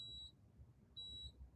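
A dehumidifier emits two short, high electronic beeps about a second apart, faint against a quiet room.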